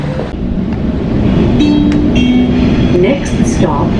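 Riding inside a fairly empty Sydney train carriage, with a loud steady rumble of wheels and motors, faint whining tones and a brief screech, while a voice talks over the noise.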